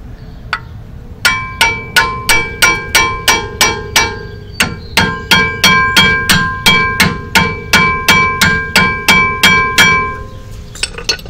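A hammer strikes repeatedly while rear brake pads are knocked into place during a Crossfire brake pad replacement. The blows are sharp, ringing metallic hits in two long, steady runs with a short pause between them, loud and close.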